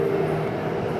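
Steady rumbling drone of an underground metro train riding between Chatuchak and Lat Phrao in Bangkok, a constant close hum with a faint tonal whine.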